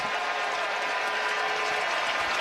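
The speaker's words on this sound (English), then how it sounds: "And a cheer from the ravine." Steady broad crowd roar from spectators at a Minnesota Twins versus Los Angeles Dodgers 2025 regular-season baseball game, a continuous even wash of cheering noise.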